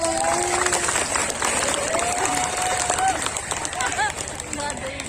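Audience applause at a village halal bihalal religious lecture gathering, loud dense clapping from a crowd, with a voice and sustained tones running over it throughout.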